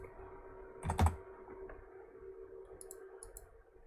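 A computer mouse gives a single quick click, faint and close, during work in CAD drafting software, followed by quiet room tone.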